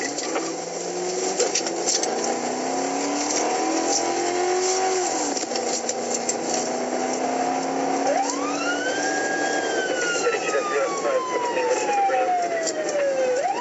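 A sheriff's patrol car's siren wails and yelps loudly while following a fleeing vehicle, rising and falling sweeps over a steady engine and road roar, heard from inside the moving car.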